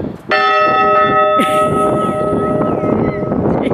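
A bright bell rings loudly with a long sustained tone, a second struck tone following, over busy background noise.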